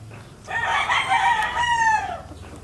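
A white Boston gamefowl rooster with claret blood crows once, close and loud, a rising then drawn-out cock-a-doodle-doo with no talk over it.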